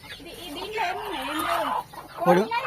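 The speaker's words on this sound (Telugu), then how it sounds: "కోడి ఉంది" A chicken clucks in a short series of rising and falling calls, fairly close, with a louder squawk near the end.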